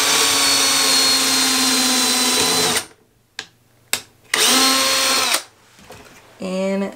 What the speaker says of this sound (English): Then drill the other one.